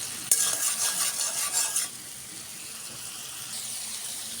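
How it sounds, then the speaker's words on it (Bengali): Spice masala with ground coriander and salt is stirred and fried in a pan, a close sizzle with scraping utensil strokes that stops abruptly partway, leaving a faint, quiet background. "এখন নেড়ে চেড়ে মশলাটি কষিয়ে নিই।"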